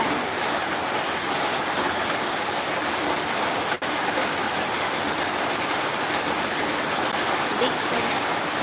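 Heavy rain pouring down, a dense continuous hiss like falling water, steady and fairly loud throughout with a brief click partway through.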